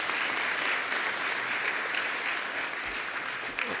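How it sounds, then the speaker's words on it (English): Audience applause at the grand opening of an education center in Detroit, a steady, full crowd clapping that carries on evenly for almost four seconds. "if I could just ask for a round of applause."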